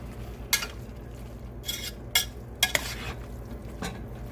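Taco meat with taco seasoning cooking in a pan, a soft steady sizzle under several sharp scrapes and clinks of a utensil stirring against the pan.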